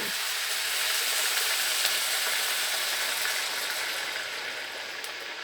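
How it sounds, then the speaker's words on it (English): Loud, steady sizzling and hissing as water hits tomatoes in a hot pan, a continuous crackly frying sound with no talking. "Ooh, the sizzle."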